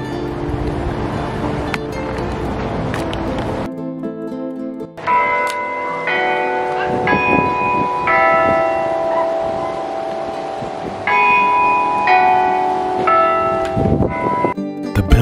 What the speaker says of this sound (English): Bells from the chapel can be heard all over the mission grounds.